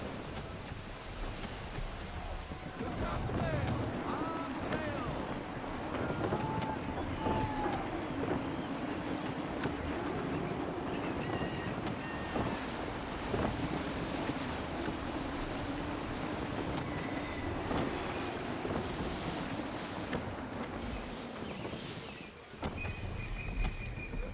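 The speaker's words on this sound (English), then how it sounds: "Wind looks to be shifting. Stay alert, Connor. Gusty winds can be difficult to manage." Gusty wind at sea in Assassin's Creed III, a broad, rushing wash of wind and surf around a sailing ship, rising and easing over time with faint creaks and distant bird calls.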